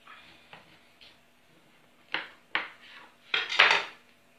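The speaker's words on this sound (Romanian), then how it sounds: "Ia să tăiem așa o feliuță." Knife slicing through a soft cozonac sweet bread on a board, several distinct clicks and taps of the blade, the last strokes louder and rougher, no talking.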